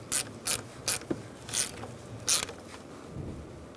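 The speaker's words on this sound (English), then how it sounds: "We're going to put our negative battery terminal on using a 10mm socket." Ratchet with a 10mm socket snugging the negative battery terminal on a 2002-2006 Honda CR-V, a series of sharp close clicks in short uneven bursts with no talk.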